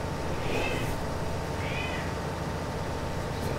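A pet cat gives two short, squeaky meows close by, each a brief rising-and-falling cry, over a steady background hum from tractor farming gameplay.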